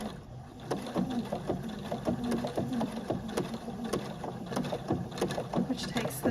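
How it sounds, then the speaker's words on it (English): A domestic sewing machine runs a crazy-quilt design in reverse, a steady rapid mechanical chatter of needle strokes with faint clicks, close and fairly loud throughout. "now I'm just gonna back stitch"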